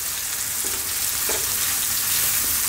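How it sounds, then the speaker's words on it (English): Steady, loud sizzling of shrimp and bell pepper stir frying in a hot pan, with a few soft clinks of stirring. "keep stir frying this around in the pan."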